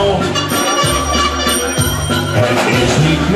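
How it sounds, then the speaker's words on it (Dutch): A bicycle bell rings amid a bouncy, full music track, its bright metallic tone sitting over steady instruments. "Ik bel met mijn bel"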